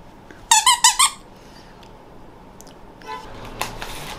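Dog toys give a quick run of four sharp, high squeaks close by, then fall quiet; a softer burst of squeaking follows near the end.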